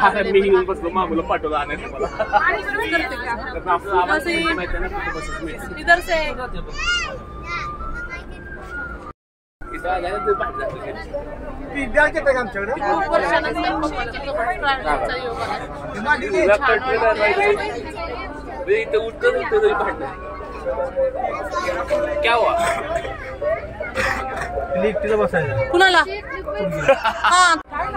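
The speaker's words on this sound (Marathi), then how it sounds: "प्रचंड गर्दी आहे" Dense crowd chatter fills a busy bus stop where passengers line up for ticket and bag checks on a family trip toward Tirupati; overlapping voices babble steadily, with nearby talk and one brief dropout.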